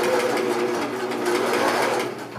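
A sewing machine stitching the seam of a fabric face mask whirs in a steady, fast buzz up close, then winds down at the end.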